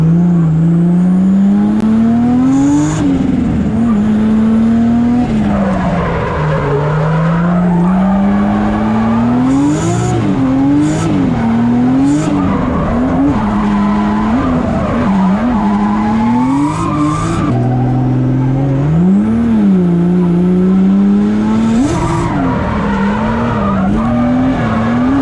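A car drifting, tires skidding and squealing in long wavering howls over a loud, steady engine drone that rises and falls through repeated slides.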